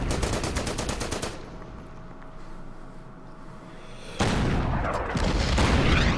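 Artillery and gunfire in the WWII strategy game Order of Battle on the Burma Road, a rapid string of loud cracking shots, a quieter lull, then another heavy burst of booming fire that continues to the end.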